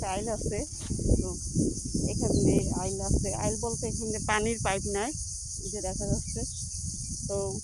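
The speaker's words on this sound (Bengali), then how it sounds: "এই এমন পরিবেশে আসলে এত সুন্দর ঝিঝি পোকার ডাক" Crickets chirp in a countryside field beside farm ridges, a steady high-pitched drone running unbroken beneath someone talking nearby.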